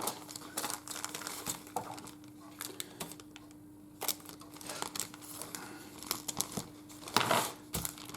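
A plastic bag holding model kit parts is torn open and handled, with close, quiet crinkling and tearing in irregular bursts and a louder rustle near the end.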